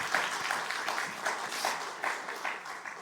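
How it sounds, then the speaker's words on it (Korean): A student faith retreat audience at a Korean university chapel claps to welcome a visiting pastor, producing a dense, even patter of many hands with slight surges, moderately loud and sustained. "여러분 박수 한번 하겠습니다"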